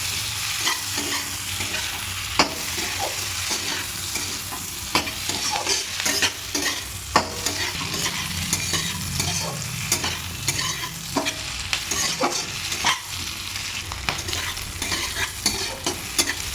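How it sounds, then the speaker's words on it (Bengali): Capsicum sizzles steadily in a hot pan while a spatula stirs and scrapes, producing sharp clicks and knocks against the metal at an irregular pace over a constant frying hiss. "দিয়ে দেবো ক্যাপসিকাম, খুব ভালো করে ফ্রাই করবো"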